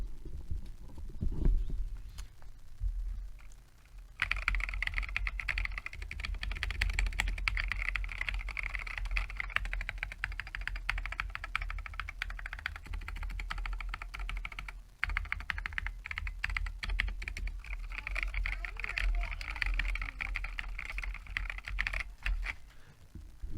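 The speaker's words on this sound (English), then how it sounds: "So that was just using the Novel Keys cream switches completely unmodified." Rapid typing on a mechanical keyboard with unmodified Novel Keys Cream switches, with no lubrication, heard up close: dense, quick clacks in steady bursts with a short pause near the start and a brief break midway.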